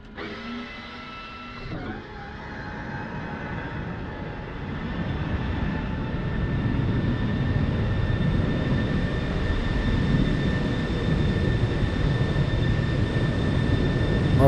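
An F-16 jet engine spools down after shutdown on the ground in the Falcon BMS flight simulator. The steady turbine whine winds down alone beneath a constant airflow rumble, near and moderately loud.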